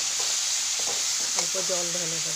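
Tomato chutney sizzling steadily in a pan with turmeric, rock salt and white salt as it is stirred, a few scraping clicks at the start, then someone talks briefly over the frying.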